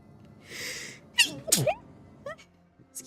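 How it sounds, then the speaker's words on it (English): A single sharp human sneeze from a streamer at a desk, loud and close, preceded by a soft breathy intake and followed by a few small vocal sounds and quiet noises. "I need to sneeze."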